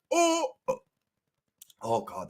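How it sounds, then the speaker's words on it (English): A dirty-sounding burp during casual banter, a voiced low rumble followed by a brief pause and further vocal sounds, with people talking around it. "that burp was dirty"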